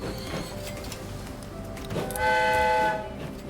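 A passenger train backs into a station in the Transport Fever 2 video game, rumbling steadily, then a sustained horn-like tone sounds before fading, with no talk.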